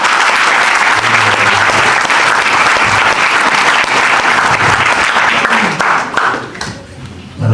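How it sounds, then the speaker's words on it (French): Audience applause at an auto-cross club general meeting, dense continuous clapping from a crowd, loud and close, tapering briefly near the end before rising again, with some voices underneath. "Voilà, donc on peut les applaudir."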